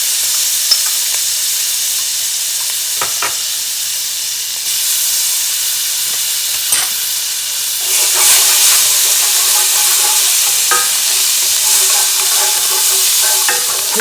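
Minced garlic sizzles in melted butter in a pan, a loud continuous frying hiss that swells brighter partway through as it is stirred, with no talking.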